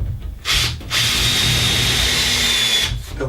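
A power drill drives screws into a wardrobe panel near a 2400 rail: a short burst, a brief pause, then a long steady whine that cuts off, loud and close with no talk.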